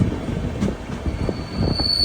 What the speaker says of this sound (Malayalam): ട്രെയിൻ ഇപ്പോൾ പിറവൻ റോഡ് റെയിൽവേ സ്റ്റേഷൻ്റെ അടുത്തെത്താനായേ.